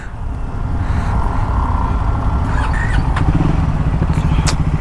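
A Triumph Scrambler 400X motorcycle engine idling nearby, a steady low throbbing rumble that runs unbroken from start to end.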